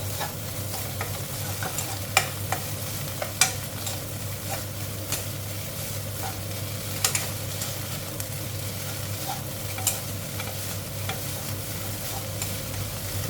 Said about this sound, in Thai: ขอคั่วอีกหน่อยนะคะ